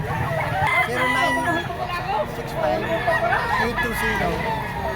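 A pumpkin yellow-legged bull stag rooster crows amid a busy mix of chatter and crowd babble at a poultry sale, with other fowl sounds and voices around it.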